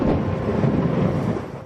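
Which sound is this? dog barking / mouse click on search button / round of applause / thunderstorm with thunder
thunderstorm with thunder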